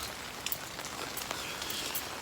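Rain falls steadily, a dense even hiss with scattered drops tapping on surfaces, moderately loud and close.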